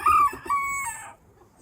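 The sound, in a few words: chickens, rooster crowing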